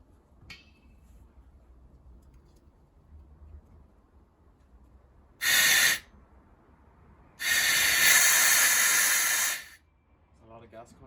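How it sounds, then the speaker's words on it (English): Gas hisses from a valve on a Sievert 3499 blowlamp torch set in two loud bursts, a short one and then a longer steady rush of about two seconds, with quiet gaps between. "There's a lot of gas coming out of that one"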